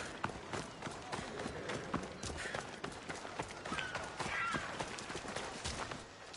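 Horse galloping in the Assassin's Creed Odyssey video game: steady rapid hoofbeats over a constant bed of game ambience, fairly close and continuous, with faint voice-like sounds mixed in.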